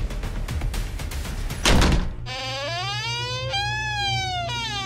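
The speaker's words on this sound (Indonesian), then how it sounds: "Semua orang kaget dengan suara hentakan pintu itu" A door bangs open with a sudden heavy thud after a stretch of rushing noise, followed by eerie rising and wavering tones in a spooky sound-effect setting.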